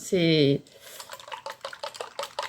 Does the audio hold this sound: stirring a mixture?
yes